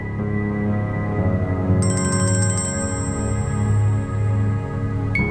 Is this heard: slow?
no